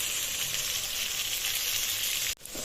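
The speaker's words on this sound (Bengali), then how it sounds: "এখন আলু ভালো করে কষিয়ে নিব, যাতে কষাতে কষাতে আলুটা সিদ্ধ হয়ে যায়" Potatoes fry in a pan after fish has been fried, for a Bengali rui fish bhuna, giving a loud, steady, dense sizzle that dips briefly near the end.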